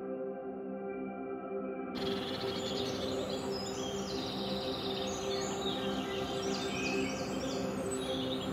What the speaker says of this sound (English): there's two bullfinches currently behind me at the minute